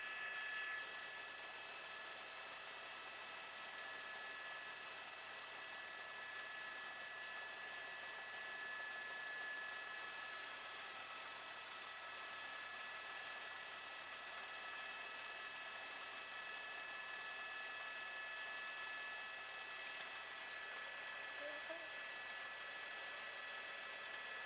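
An LAPD police helicopter hovers overhead during a high-speed DUI freeway pursuit through the San Fernando Valley, its steady rotor and turbine drone continuous and fairly distant, with no voices.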